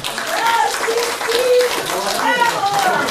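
Audience applause at a musical and poetry evening as a participant receives a certificate: a steady, loud wash of clapping across the hall with voices calling out over it throughout.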